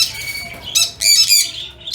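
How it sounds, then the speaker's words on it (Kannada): A green cheek conure chick on a bird breeding farm gives several close, shrill squawks in quick bursts. "ಇದು ಗ್ರೀನ್ ಚಿಕ್ ಕನ್ನೂರ್ ಅಂತ ಕರಿತೀವಿ ನಾವು"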